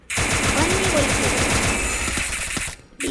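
Rapid automatic gunfire in the battle game Free Fire, a loud continuous burst of closely spaced shots lasting nearly three seconds before stopping abruptly.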